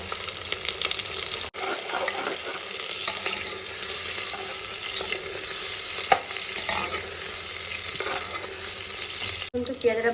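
Onions frying in hot oil for mutton curry, a continuous sizzle with repeated stirring and scraping in the pan, steady and close throughout with a couple of brief clinks.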